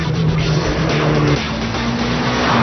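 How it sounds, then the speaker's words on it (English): A Mitsubishi Lancer Evolution street car screams around a racetrack at about 92 mph, its engine holding a steady high drone with tire noise, loud and close from inside the cabin, no talking. "You almost forget that you're in a street car as you're screaming through turn 5."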